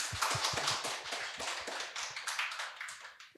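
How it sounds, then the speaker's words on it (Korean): Applause at a Korean award ceremony for an upcycling and plastic-free idea contest, a modest, fairly sparse audience clapping with distinct individual claps that pulse unevenly and quietly. "여러분 다시 한번 큰 박수 부탁드리겠습니다"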